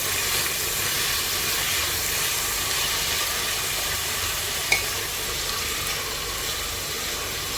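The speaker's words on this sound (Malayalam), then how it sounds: "ഉള്ളിയൊക്കെ വഴറ്റിയത് ഈ ഒരു പരുവത്തിലായി കിട്ടിയിട്ടുണ്ട്" Onions sautéing in a pan with a little salt, cooking down for a chicken biryani: a steady, dense sizzle and hiss throughout, close and fairly loud, with one brief clink partway through and no talking.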